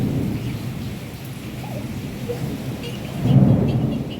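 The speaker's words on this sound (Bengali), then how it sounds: "কেমন ডাকছে, আওয়াজ দিচ্ছে, দিকে চমকাচ্ছে, প্রচণ্ড বৃষ্টি, ঝড় শুরু হয়ে গেছে একদম।" Heavy rain pours steadily while low thunder rumbles, swelling louder near the end.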